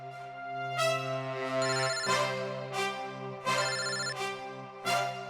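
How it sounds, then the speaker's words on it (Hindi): A phone ringtone plays a repeating electronic melody, loud and clear, cycling through several bursts with no voices. "यहाँ पे किसका फोन बज रहा है? ये आपका फोन बज रहा है।"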